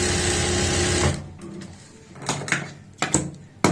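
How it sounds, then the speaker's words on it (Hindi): A sewing machine stitching a double seam on fabric for palazzo pants, whirring steadily and loudly for about a second, then falling to quiet with a few sharp clicks and knocks from handling. "तो अब हमें दूसरी साइड में सिलाई उतारनी है, वही 3 से 4 इंच या 5 इंच तक सिलाई डबल होनी चाहिए"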